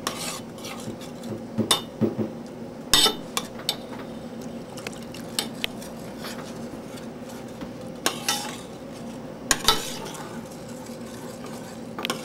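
A spoon stirs thin homemade gravy in a pot on the stove, giving repeated scraping and clinking against the metal along with soft liquid swishing and faint sizzling. The sounds come at irregular intervals.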